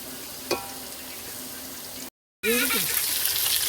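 Chow mein with onion and chili frying in a pan, a loud, constant sizzling hiss that cuts out briefly, then returns even stronger with faint voices mixed in.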